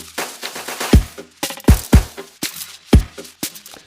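A short, punchy drum groove with deep kick thumps and crisp snare and hi-hat hits in a syncopated rhythm, loud and close.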